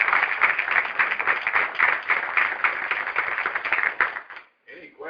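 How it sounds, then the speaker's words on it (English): A round of applause for honorees at a state board of education meeting, dense clapping that holds steady for about four seconds and then fades, with a brief burst of speech at the end. "let's give them all another round of applause."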